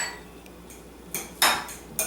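A utensil knocks and scrapes against a bowl in a few quiet clinks while deviled egg filling with red wine vinegar is stirred, the sharpest taps coming in the second half with near-silence between.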